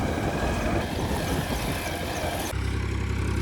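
A tractor engine runs close on a farm, a dense, loud, rough rumble that changes abruptly near the end into a steadier idling drone, with no voices.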